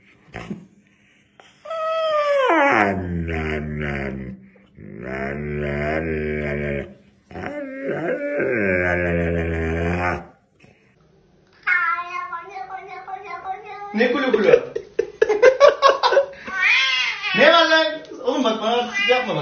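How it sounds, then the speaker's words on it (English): A cat yowls in long, drawn-out meows, close and loud, followed by shriller, choppier cries and squeals. "Crazy kitty."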